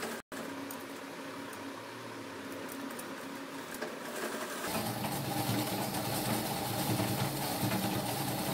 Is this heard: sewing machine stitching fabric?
yes